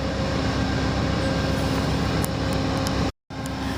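A steady, loud rumble of the Carolinian passenger train led by P42DC diesel locomotive 202 at Raleigh Union Station, with a deep engine drone and rolling wheel noise, cut by a brief dropout near the end.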